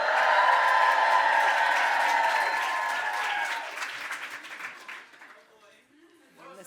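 Applause and cheering from a conference audience at a national pro-life summit. Dense, loud clapping with a few whoops fades out over several seconds. A voice can be heard under the applause near the end.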